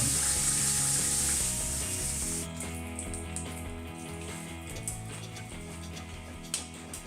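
Pieces of salt cod fry in hot oil in a pan, a loud, bright sizzle at first that settles into softer crackling and bubbling, with a few clinks of utensils.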